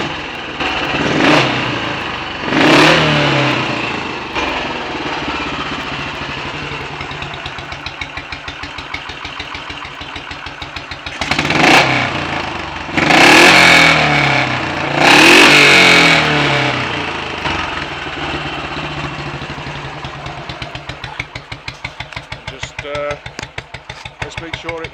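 Royal Enfield 500 motorcycle engine firing up after minor adjustments, with several loud revving bursts rising and falling over a steady thumping idle, close to the microphone; a voice is heard talking at times.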